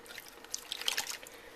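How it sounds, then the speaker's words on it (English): A can of diced tomatoes tipped into slow cooker chili gives a brief cluster of soft, wet plops and splashes, close and fairly quiet, with no talking. "So you're going to take your can of diced tomatoes, and we're going to pour that whole can in."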